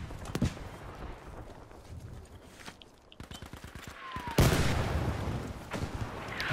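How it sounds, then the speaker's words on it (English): An artillery strike in a shooter video game, heard as one sudden heavy blast partway through amid scattered gunfire crackle and rumbling game noise. "That's an artillery strike, Sean."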